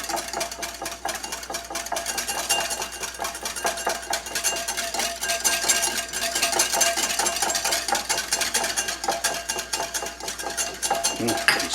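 A utensil scrapes and clinks steadily against a bowl while homemade mayonnaise is stirred with a vinegar and lemon juice mix, a busy continuous clatter with a faint mechanical hum underneath.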